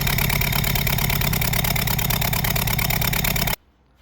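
A Changan A05 car engine with a misfire fault runs at a steady, loud, rhythmic idle close by, then cuts off abruptly near the end, leaving near silence.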